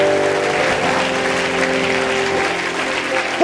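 A church congregation applauding, dense sustained clapping from a large crowd filling the room evenly at a steady loud level, with faint voices mixed in.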